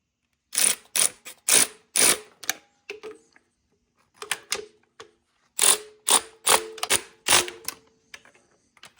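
A ratchet clicks in quick bursts while tightening bolts on a 1971 engine, with short sharp runs separated by pauses, close and fairly loud with no talk.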